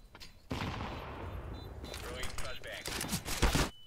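Video game gunfire, loud bursts of automatic shots and scattered single cracks, mixed with game effects and a player shouting over the action.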